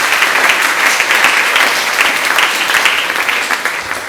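A church congregation applauding the Lord during a Sunday service. The clapping is loud, dense and sustained, with many hands together close by filling the space, and no speech above it.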